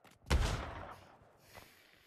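A gunshot in the virtual reality shooter Pavlov: one sharp, loud blast with a rolling tail and a fainter second report about a second later.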